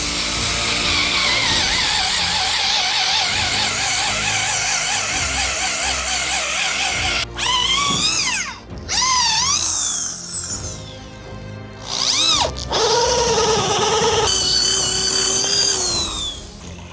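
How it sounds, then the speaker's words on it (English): A power drill fitted with a 1-inch bit bores into willow posts outdoors, its steady motor whine running loud for several seconds, then breaking into short bursts of rising and falling pitch as the bit bites and stalls. "So we got a 1-inch drill bit here. We're going to drill through the end of the willows in several different directions"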